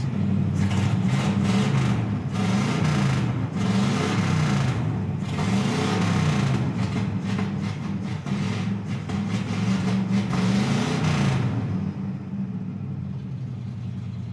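An old Pontiac Chieftain engine runs steadily with a deep, loud rumble and a lumpy idle rhythm for most of the clip, then drops back toward a quieter idle near the end. No one speaks over it.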